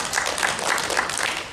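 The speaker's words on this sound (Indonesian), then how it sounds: "tepuk tangan dulu Pak." Audience at a seminar clapping, a brief burst of dense applause from many hands, steady and moderately loud.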